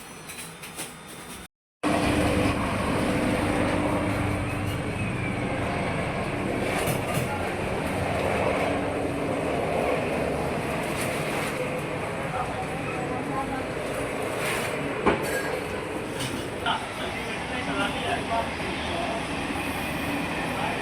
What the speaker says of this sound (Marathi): धड धड धड धड धड धड आवाज चालू. Western railway.